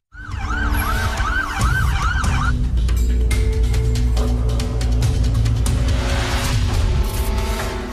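An ambulance siren wails near Eldorado airport in Colombia, its rising and falling tone lasting about two seconds before giving way to steady, loud road traffic and vehicle rumble.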